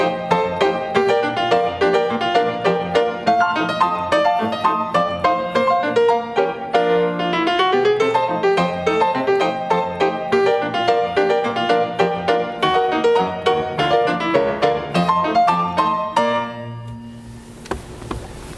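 Solo ragtime piano with both hands, a rigid oom-pah bass under a syncopated right-hand melody that anticipates and delays the beat, busy and bright throughout, closing on a sustained chord that rings and fades.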